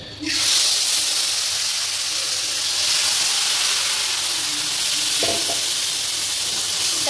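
Black and white mustard seeds, dry red chilli and bay leaf sizzle steadily in hot oil in a wok, a loud continuous frying hiss that runs close and unbroken throughout, with a few faint clinks partway through.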